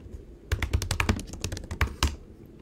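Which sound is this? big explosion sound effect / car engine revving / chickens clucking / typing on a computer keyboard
typing on a computer keyboard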